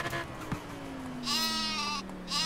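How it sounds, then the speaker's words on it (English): Sheep bleating in the racing game Forza Horizon 4, two wavering bleats over a low, steady car engine drone. "Sheep."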